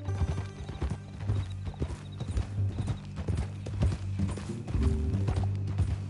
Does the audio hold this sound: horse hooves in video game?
yes